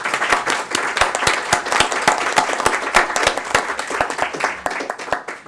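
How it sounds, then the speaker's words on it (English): Audience in a conference room applauds a humanitarian coordination panel at the close of the session, a dense steady roll of many hands clapping, loud and close, continuing for several seconds. "Please give them a round of applause."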